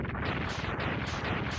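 Dense, continuous blasting and crashing from Mega Man X2 gameplay, with rapid shots overlapping into a loud, unbroken barrage and no gaps.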